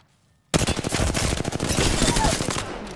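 Rapid automatic gunfire in a console shooter game, bursting in suddenly after a brief quiet and continuing as a dense, loud, steady volley of shots.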